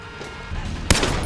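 Gunshot in a Steven Seagal action movie scene from Code of Honor: a single sharp, loud bang near the end of a short stretch of rumbling background, with no talking.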